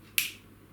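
A single sharp finger snap, close and crisp, during a street hypnosis demonstration, standing alone against a quiet room background with no talk over it.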